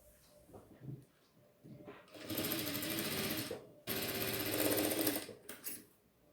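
Sewing machine stitching the hem of a boxer brief, two long bursts of fast, loud, even mechanical whirring separated by a brief pause, with softer handling noise before and after.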